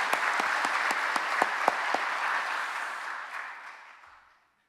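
Applause from a church congregation, a dense wash of clapping with a few sharp individual claps standing out, gradually dying away to silence.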